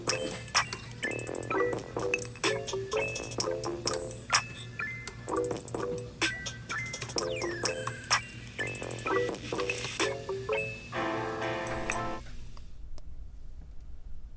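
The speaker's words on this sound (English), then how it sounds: "And then you just stir it around, mix in your pot." Vegetables for spring roll filling get stirred around a pot, with a utensil clinking and scraping against the metal in quick, irregular taps, close and fairly quiet.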